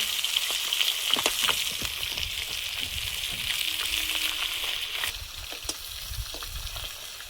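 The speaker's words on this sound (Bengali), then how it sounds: "ফুল দিয়ে এই তেলে বসিয়ে দেবো" Continuous bright sizzling of pumpkin flowers frying in oil, steady and fairly loud, with scattered pops and small crackles throughout.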